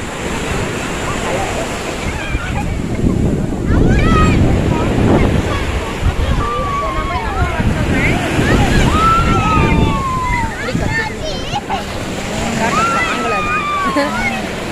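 Sea waves wash onto a beach under strong wind buffeting the microphone, a steady loud rush with swelling surges, while birds call repeatedly and people talk throughout.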